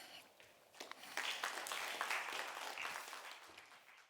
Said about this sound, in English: Let's give a big round of applause for this first pitcher, Heike Zatterstrom, CCO of Boson Energy.